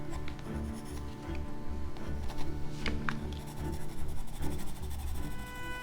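A pencil scratches tall grass lines over dried gouache in a mixed media landscape, giving continuous close, dry strokes in a steady back-and-forth rhythm with no voices.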